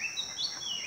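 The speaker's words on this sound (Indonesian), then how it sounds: "ini juga ada suara burung." Birds chirp faintly behind a cattle shed on a farm where ducks also forage, a brief run of thin, high twittering notes over soft background ambience.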